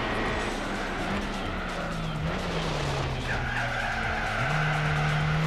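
A race car in Gran Turismo 4's Renault Alpine Cup one-make race skids under unstable braking, tires squealing loudly and continuously over a droning engine whose pitch drops and then rises.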